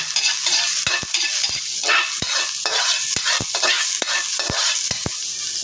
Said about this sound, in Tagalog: Lagyan natin yung sibuyas bawang.